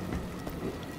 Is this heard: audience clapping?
no